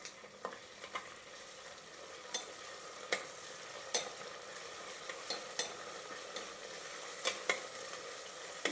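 Ginger garlic paste frying in a hot pan for a rice-and-lentil kichidi, a steady sizzle broken by repeated sharp scrapes and clacks of a spoon stirring, close and fairly quiet, with no talking.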